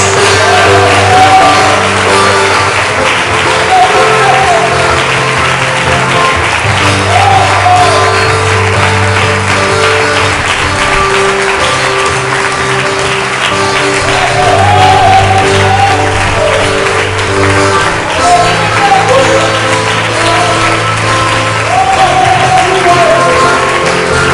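A church congregation applauds and shouts in praise, a loud dense wash of clapping and cheering that holds steady for a long stretch, with voices calling out over it.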